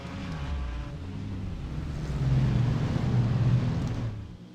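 A race car at the Winter 24h of the Nürburgring, its engine a steady, rumbling drone that swells louder in the second half and passes without any voices.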